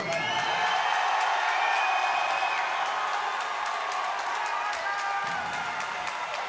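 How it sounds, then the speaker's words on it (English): Applause and cheering from a fight-night crowd voting for boxer Baldomero Zamora after a bout, a dense, steady wash of clapping that holds for the full stretch at a loud, even level. "By round of applause, ladies and gentlemen, how many feel like Baldomero Zamora won the fight?"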